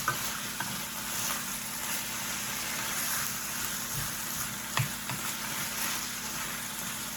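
Wine cooks off in a pan with beets over just above medium heat, a steady, even sizzle and hiss with a few faint clinks and scrapes of stirring throughout.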